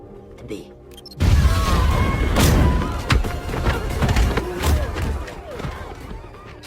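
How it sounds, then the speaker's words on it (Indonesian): A heavy bomb explosion in the film The Beekeeper bursts in with a deep boom and rumbling crashes, followed by scattered debris and thuds over a dramatic soundtrack. "Adam meledakkan bom yang sebelumnya ia pasang hingga terjadi ledakan"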